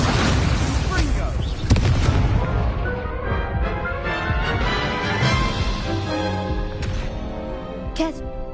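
Repeated Confringo fire-spell explosions in the video game Hogwarts Legacy, booming blasts and bursts one after another amid battle noise, loud and near, with a voice shouting over them.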